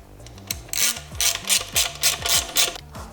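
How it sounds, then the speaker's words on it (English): A ratchet wrench tightens bolts on the hard line and distribution block of a G37 during a transmission rebuild, a close series of quick rhythmic clicking bursts in steady strokes with no talk. "Bolt down the hard line"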